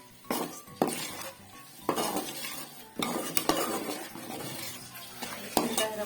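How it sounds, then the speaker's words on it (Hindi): Boiled chicken tipped into a pan and stir-fried for restaurant-style chicken pasta: repeated metal spoon scrapes and clinks against the pan over a low sizzle, close and fairly quiet, no talking. "बस अब हम इसमें डालेंगे अपना चिकन।"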